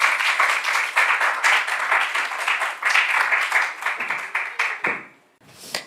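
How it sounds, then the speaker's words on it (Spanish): An audience at a scientific conference gives a speaker a burst of hearty applause, dense clapping that is loud and fairly close, tapering off near the end with a few last claps. "Recibamos un fuerte aplauso a la doctora Paula Gómez."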